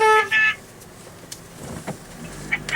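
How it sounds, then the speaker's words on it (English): A car horn blares briefly at the start with a couple of quick honks, then fades into quiet road and cabin noise with a few faint clicks. "Who's honking?"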